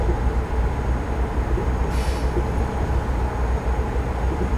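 Loud, steady low engine rumble of a heavy road-train truck driving in Australia in American Truck Simulator, windows down, with constant drone and road noise throughout, from the in-game cab.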